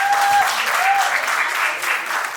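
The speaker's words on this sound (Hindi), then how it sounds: "तालियां प्लीज।" Audience at a film trailer launch event applauds a choreographer, a dense, fairly loud burst of clapping that holds steady throughout, with a faint tone briefly sounding underneath.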